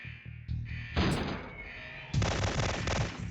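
Sharp gunshots and heavy blasts ring out in the PlayStation shooter Syphon Filter, a few loud reports with echoing tails over a steady game tone, no talk.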